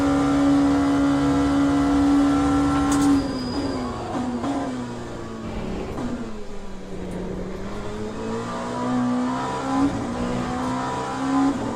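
An F1 race car engine in the racing game Le Mans Ultimate screams loudly at high revs, its pitch holding, dipping through a gear change, then climbing again under steady acceleration.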